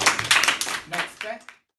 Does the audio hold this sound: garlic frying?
no